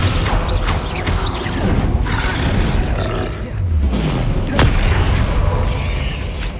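A Descendo spell in Hogwarts Legacy slams down with loud booming, crashing impacts and a low rumbling roar, one heavy hit around the middle over dense continuous game sound.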